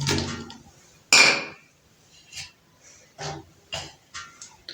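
Onions tipped into a pressure cooker holding meat for Afghani pulao, starting with a loud scraping clatter, then several soft separate thumps and knocks of metal utensils, close by with no speech.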